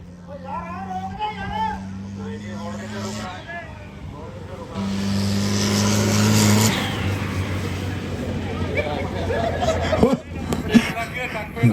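A Mahindra 575 tractor engine revs and roars nearby during a village tractor race, rising and falling under a busy crowd of voices and shouting, with a loud burst near the end.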